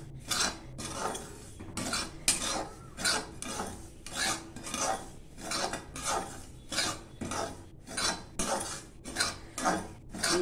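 Semolina dry-roasted in a pan for kesari, stirred with a spoon in steady repeated strokes that scrape and clink against the metal, close and fairly loud, no talking.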